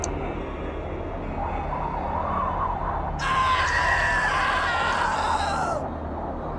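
High, wavering scream rising over a dark ambient drone in a Lovecraft horror audio drama about a terrible old man, a loud cry lasting a few seconds mid-scene before fading back into the low rumble.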